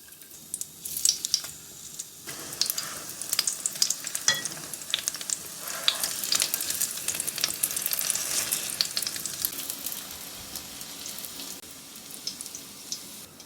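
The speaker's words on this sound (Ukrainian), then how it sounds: "обмакую м'ясо в клярі і обжарюю до золотистості з обох сторін" Steady crackling sizzle of battered chicken breast pieces frying in hot oil, with sharp pops and spatters throughout, close and fairly loud.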